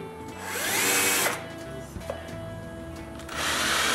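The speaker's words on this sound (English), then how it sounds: "drill shallow pilot holes with a Vicks bit" A power drill bores shallow pilot holes with a Vix bit into an interior door, whining in bursts with brief pauses between them, close and moderately loud, with no talking.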